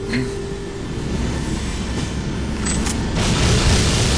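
In the Aliens versus Predator 2 video game a generator starts up, a loud rumbling mechanical roar that builds and holds steady with a few clanks.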